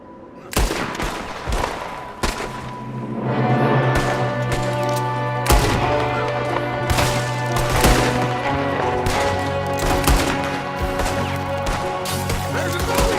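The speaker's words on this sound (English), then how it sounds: "There's another one shooting from the window." Gunfire in the game Red Dead Redemption 2, rapid loud shots and booms cracking over a droning musical score, dense and continuous, with brief voices mixed in.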